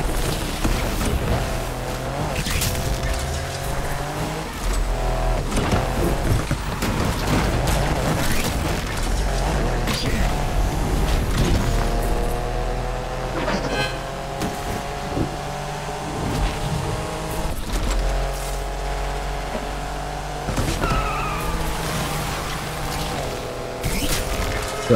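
In Need for Speed Unbound, a racing car revs hard and drifts with long squealing tires and whining engine pitch shifts, loud and continuous throughout with occasional thumps.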